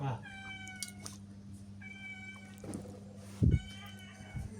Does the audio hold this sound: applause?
no